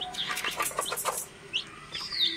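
Newly hatched chicks from a first home-incubated batch of eggs give repeated high, thin chirps and peeps in quick bursts, close by, with other birdsound mixed in and no talking.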